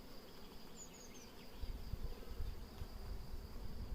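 Honeybees drone steadily around an open hive during an acacia honey super harvest. The buzzing is close and continuous, with soft thumps and handling noises building underneath.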